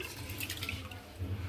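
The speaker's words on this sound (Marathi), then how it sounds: "हे बघा, आपण परत एकदा पाणी टाकून धुवून घेऊ।" Soaked finger millet is rinsed with water. Close, soft sloshing and dripping water runs briefly and steadily, with no speech.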